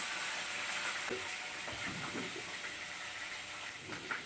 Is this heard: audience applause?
no